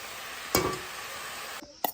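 A pan of food sizzles steadily while frying during village-style home cooking, a continuous hiss interrupted by a couple of sharp utensil knocks and clinks near the start and end.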